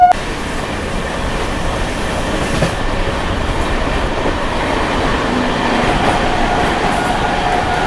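Aboard the Sitamarhi–Delhi Amrit Bharat Express heading toward Old Delhi, a loud steady rumble of the moving train fills the cabin, a continuous roar with faint wheel rhythm and no talking.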